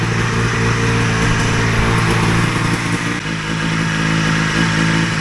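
A newly fitted motor on a Hurricane hovercraft idles loudly and close by with a steady buzzing drone, its pitch dipping slightly partway through as the idle comes down.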